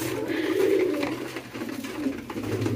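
Domestic pigeons coo nearby in a loft, producing soft, low, rolling calls that overlap and repeat throughout, close and steady.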